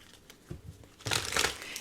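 Tarot cards riffled and shuffled by hand, a soft papery rustle that swells into a louder crisp flurry near the end, close and alone.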